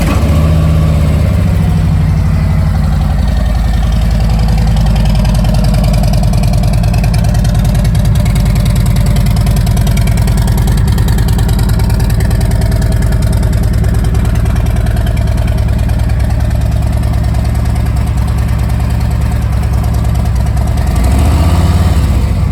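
A 2019 Harley-Davidson Ultra Limited with a Vance and Hines exhaust idles loud and close, its steady deep rumble running unbroken throughout with no voices.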